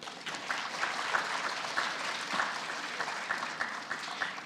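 An FFA banquet audience applauds the second-place team, a steady, moderately quiet wash of clapping with occasional sharper hand claps throughout.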